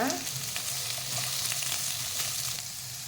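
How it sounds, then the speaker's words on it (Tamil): Brinjal, drumstick and carrot sauté in a hot pan, a loud, dense, continuous sizzle with faint stirring scrapes throughout. "நான் இங்கே கத்திரிக்காய், முருங்கைக்காய், கேரட் வச்சுருக்கேன். அதை இதில் சேர்த்துக்கலாம். நல்லா வதக்கி விட்டுக்கோங்க."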